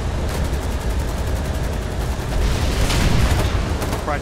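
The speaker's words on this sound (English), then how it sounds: "I'm just gonna take a machine gun and gun them down" Machine gun fire in the war video game Foxhole, a loud, dense, unbroken clatter of rapid shots layered over heavy rumbling battle noise, with a few brighter bursts near the end.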